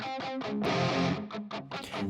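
Two distorted electric guitars trade phrases in call and response, one in a lower octave and one higher, in loud, dense, rhythmic bursts.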